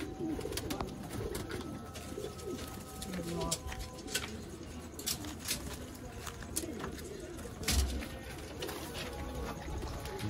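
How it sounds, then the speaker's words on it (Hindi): Sialkoti pigeons in a loft, with soft cooing and bird calls amid a steady outdoor background, while someone talks over them throughout. "ये एक और बर्ड आ गया जी"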